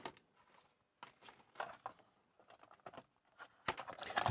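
Keys being tapped on a ZX81 computer's membrane keyboard during a function test, in short irregular bursts of clicks with pauses between, ending in a louder cluster of presses.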